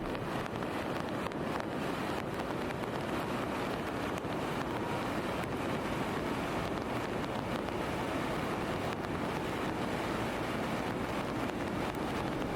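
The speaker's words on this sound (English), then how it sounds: "I decided to walk to the nearby river and enjoy the rain." Steady rushing water of a river in the rain in Kashmir, a dense continuous roar with wind noise buffeting the microphone, loud and unbroken throughout with no talking.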